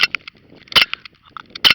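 A Daisy Powerline 5501 CO2 air pistol fires during target practice: two sharp, close cracks roughly a second apart, with fainter clicks and light handling noise between them.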